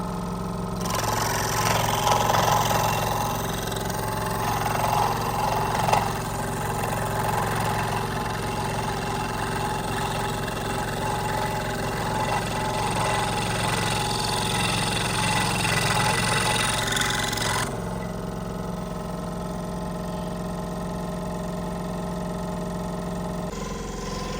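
A scroll saw runs steadily for about eighteen seconds with a dense buzzing drone and cutting rasp, then the tone drops as the blade stops cutting and a lower hum continues to the end.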